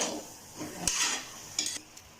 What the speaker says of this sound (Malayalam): നമ്മൾ മഞ്ഞൾപ്പൊടിയൊക്കെ ഇട്ട് നല്ലപോലെ ഇളക്കി കൊടുത്ത്